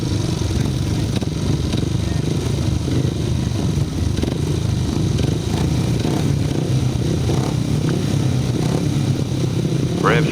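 Racing motorcycles rumble loudly together on a starting grid, a dense constant engine drone with rising revs and slight clatter, close and sustained with no voices.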